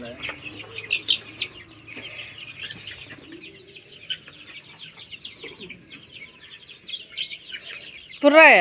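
Hens cluck and chirp continuously at close range, with busy bird calls throughout and a louder burst near the end.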